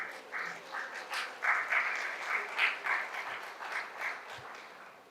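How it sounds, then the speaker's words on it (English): Applause from an audience at an entrepreneurship lecture as the guest of honor is acknowledged, a fairly faint, steady patter of clapping lasting several seconds with uneven swells. "Please let's give him a round of applause."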